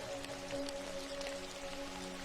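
Soft, steady rain falls outside a café, a faint even hiss with scattered light drops and a low, sustained tonal hum underneath, with no voices.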